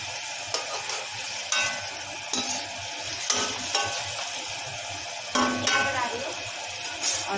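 Tomatoes cook in a pan with a continuous sizzle, broken by occasional scraping stirs and light utensil knocks against the metal, close and fairly loud throughout.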